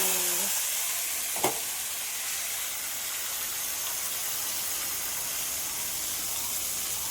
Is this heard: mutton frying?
yes